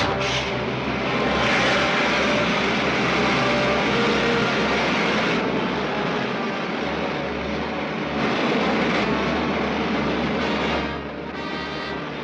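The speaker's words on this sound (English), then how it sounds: "Fire main jets." A rocket ship's main jets fire in a 1953 serial, a loud, continuous roaring rush that stays dense and steady throughout, easing slightly near the end.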